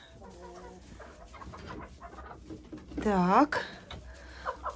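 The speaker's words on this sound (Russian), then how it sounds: "Здесь у меня молодые курочки." Young hens cluck softly in a chicken coop, then one lets out a loud rising squawk, while someone speaks a single brief word.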